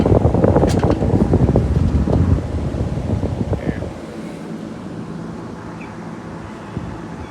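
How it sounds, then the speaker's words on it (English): A dusty Lasko Deluxe Ultra Cooler box fan with metal blades runs with a steady airy whoosh, covered at first by close handling clatter and bumps that stop after a few seconds. "metal blade fan with a pretty good sized pitch. Even for as dusty as it is, it throws out some air."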